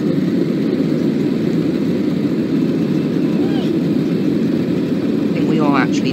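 An airplane taking off in a Roblox video game, a loud continuous low engine roar that holds steady throughout, with a voice speaking briefly over it.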